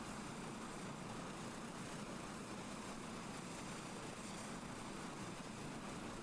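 A helicopter engine in a flight simulator game hums as a steady, faint, broadband drone with a constant whine on top, unchanging and alone throughout.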